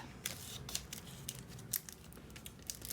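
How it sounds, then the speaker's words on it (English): Tape being pulled and pressed around a paper cash envelope, giving short crinkling, tearing bursts in an irregular rhythm, close and fairly quiet with no talking. "And so we are taping that bad boy up."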